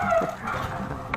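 Dogs playing together indoors, giving soft whimpers and small yips at close range over a steady low background hum, with no barking bursts.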